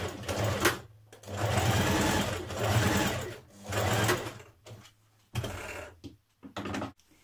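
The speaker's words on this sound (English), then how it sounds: "Now stitch these in place." A sewing machine stitches fabric in a series of loud, buzzing bursts lasting a second or so each, with short silent pauses between runs and shorter stops near the end.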